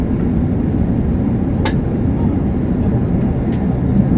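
A steady, loud low engine drone fills the cabin throughout, with a couple of brief high clicks over the constant rumble.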